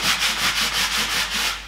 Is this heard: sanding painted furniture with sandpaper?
yes